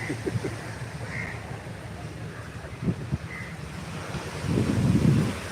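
Strong wind roars and buffets steadily on Fort Kochi beach, swelling loudest near the end, with faint bird calls in the background.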